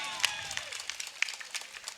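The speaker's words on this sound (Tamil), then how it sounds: "நல்லா கைத்தட்டுங்க." Applause comes from an audience at a Tamil pattimandram debate stage show. Scattered clapping rises and then thins into sparse, uneven claps over a couple of seconds.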